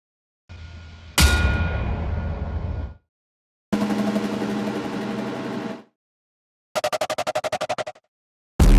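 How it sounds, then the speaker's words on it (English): Explosive impact hits from a Nightmare sound line in a drum and bass track: several loud, separate bursts of crunchy noise with abrupt starts and gaps between them, one with a fast stuttering rattle. "I'm also using the Nightmare line to add some explosive hits."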